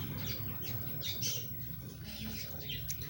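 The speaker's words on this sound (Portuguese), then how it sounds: "Ei, Valentina, cadê o passarinho?" Faint, brief chirps and squawks from a small bird come through a quiet indoor room, scattered over a few seconds with a low murmuring background.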